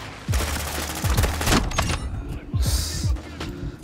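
A sniper rifle fires in an online shooter video game: several sharp, loud shots with quick echoing tails, spaced irregularly across a few seconds.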